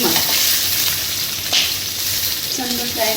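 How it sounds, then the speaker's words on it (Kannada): Chopped onion and green chilli fry in hot oil for Kundapura-style prawns sukka, giving a loud, continuous close-up sizzle with a few light stirring clicks and no talk. "ಈರುಳ್ಳಿ ಮತ್ತು ಹಸಿಮೆಣಸು ಮಿಕ್ಸ್ ಮಾಡಿ ಚಂದ ಫ್ರೈ"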